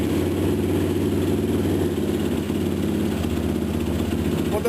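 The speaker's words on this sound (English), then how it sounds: "Now if I kill the motor while it was hanging idle and I restart it" A 2005 Yamaha YFZ450 ATV engine, which has a high-idle fault, idles steadily after being restarted, with a loud, even, close-up low rumble that holds throughout without revving.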